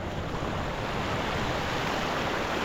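Sea waves wash against the shore in a steady, broad hiss of surf, continuous and fairly loud, mixed with some wind buffeting and no voices.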